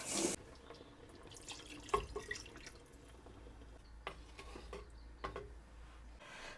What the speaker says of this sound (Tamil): ஓகே, கொஞ்சம் கூட தண்ணி ஊற்றி விட்டுறேன்